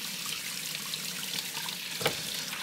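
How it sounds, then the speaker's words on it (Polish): Rice being rinsed under a cold running tap, a steady, fairly quiet wash of flowing water with a brief splash near the end. "wypłukać ryż pod bieżącą zimną wodą"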